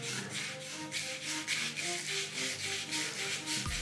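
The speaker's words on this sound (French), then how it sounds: "poncer la canne, c'est vraiment d'enlever, parce que là elle est un petit peu vernie, d'enlever cette couche de vernis pour que la colle adhère bien." Fine-grit sandpaper rubs varnish off a fishing rod in quick, even back-and-forth strokes, close and fairly loud, with no talk.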